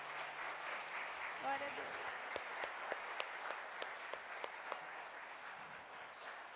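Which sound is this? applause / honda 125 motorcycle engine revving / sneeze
applause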